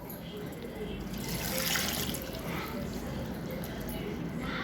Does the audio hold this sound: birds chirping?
no